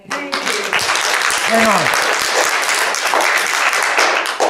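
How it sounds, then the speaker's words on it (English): Applause from an audience at a council meeting, a steady wash of clapping that fills the room throughout, with a brief spoken interjection near the start. "I will ask the audience not to do the applause thing"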